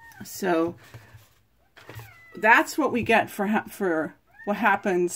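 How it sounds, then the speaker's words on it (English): A cat meows several times in the background, with drawn-out, wavering calls mixed among a man's speech, fairly clear and close. "That's my cat you can hear in the background."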